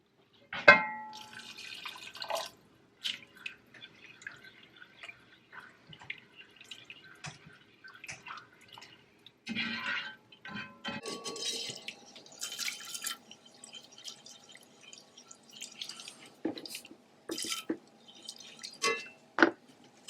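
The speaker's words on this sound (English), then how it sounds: "Let that bubble away a bit." A pan of curry with chopped tomatoes bubbles on the stove, giving scattered soft pops and drips at an irregular pace, faint and close, over an otherwise quiet kitchen.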